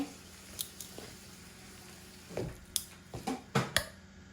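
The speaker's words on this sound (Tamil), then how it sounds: "சட்டியில் ஒட்டாத பதத்துக்கு வடிவாக குழைச்சி எடுப்போம்" Hand kneading a dough mixture in a pan, with water added a little at a time until it stops sticking: quiet, irregular soft squishes and a few wet slaps, growing louder toward the end, with no talking.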